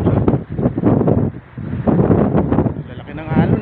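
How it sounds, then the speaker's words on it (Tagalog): Strong wind blows hard and continuously over an elevated roadside in the Philippines ahead of Typhoon Crising, with a voice talking loudly over the buffeting gusts close to the microphone. "Grabe hangin, lakas. Oh, mantakin nyo yung hangin na yan."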